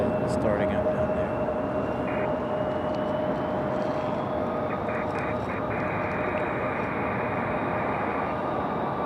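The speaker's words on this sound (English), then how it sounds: "As you guys hear, Air Canada starting up down there." An Air Canada airliner's engines start up at Raleigh-Durham airport, a steady, distant roar with a faint rising whine over constant wind-like noise.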